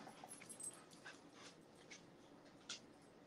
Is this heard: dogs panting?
yes